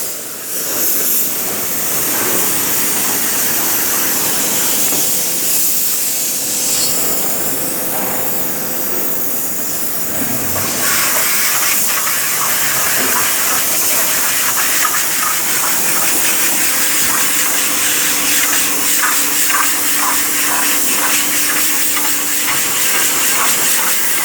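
Compressed air blowing through a chiller condenser to clean it, a loud continuous roaring hiss that keeps up steadily for the whole stretch, with no speech.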